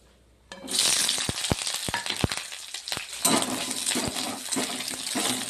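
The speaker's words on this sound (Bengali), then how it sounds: "এবার পেঁয়াজ আর কাঁচা লঙ্কাটা ভেজে নেবো আমি তেলের মধ্যে" Onion and green chili frying in hot oil, a loud, steady broadband sizzle that bursts in after a quiet half-second and carries on throughout, with occasional sharp clicks and pops.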